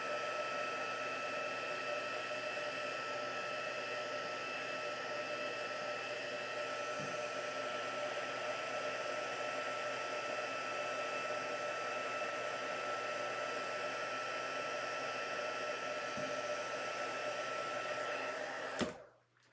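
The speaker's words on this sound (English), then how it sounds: "So I'm going to heat emboss this one from the bottom." A heat gun blows steadily and loudly for nearly twenty seconds while heat embossing a card from the bottom, then cuts off abruptly at the end.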